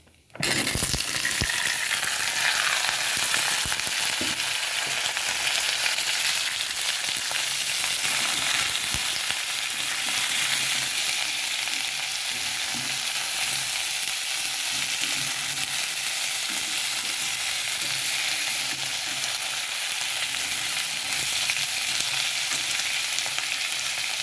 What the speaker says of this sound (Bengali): সব কিছু ভাজা ভাজা হয়ে গেছে ওখানে এটার মধ্যে দিয়ে দিতেছি আমি পুইটাটাটা আর মিষ্টি কুমড়ো